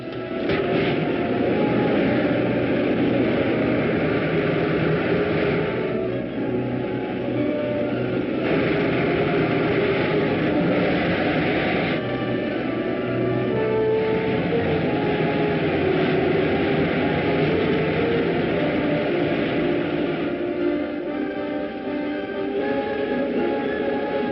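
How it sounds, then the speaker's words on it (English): Rocket ship main jets firing as a film sound effect: a loud, continuous roaring rumble that persists for more than twenty seconds with slight shifts in texture. "Fire main jets"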